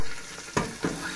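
Meat and onions frying in a pan with a bit too much fat, a steady close sizzle with two brief stirring scrapes.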